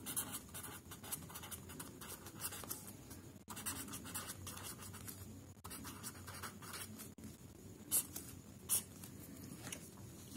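Pen strokes drawing a horn antenna diagram on paper scratch and scrape softly at close range in short bursts, with a couple of sharper taps near the end.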